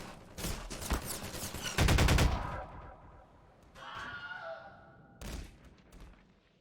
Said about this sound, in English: I got a pulse rifle now